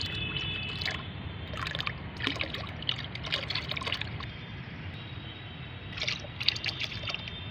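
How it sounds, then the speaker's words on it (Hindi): One litre of liquid mustard cake fertilizer is poured into nine litres of water, making soft, faint trickling and splashing in irregular bursts that pause and resume, with no talking. "1 लीटर मेरे पास सरसों की खली का फर्टिलाइज़र है और ये 9 लीटर पानी है। तो इसमें मैं इसको डाल देती हूँ।"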